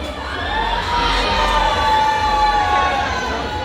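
A loud, close crowd near the stage at a disco polo concert yells and shouts names together in a sustained, dense roar of many voices.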